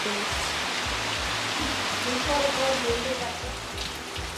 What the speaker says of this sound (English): It is nice to see rain from here, right?